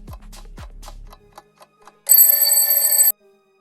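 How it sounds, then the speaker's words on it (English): A shiny magic bell on a snowy train rings softly in one sustained, shimmering chime lasting about a second, preceded by faint scattered taps and ticks. "a shiny magic bell ringing softly on a snowy train"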